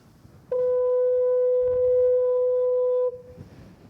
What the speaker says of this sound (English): on a misty day, well, its foghorn sounds like this.